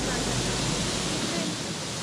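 Soochipara waterfall in Wayanad, Kerala, sending a steady, broadband rush of falling water that fills the scene without pause, sounding fairly close and unbroken.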